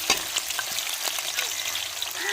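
Onions sautéing in oil, a steady close sizzle and crackle with a few light stirring scrapes, no speech over it.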